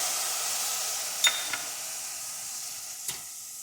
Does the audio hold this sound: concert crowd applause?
no